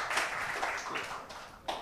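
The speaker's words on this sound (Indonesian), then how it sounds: "Mohon tepuk tangannya," Scattered clapping from a small audience at a badminton talent-scouting audition event, a short, uneven burst of hands that thins out and then picks up again briefly.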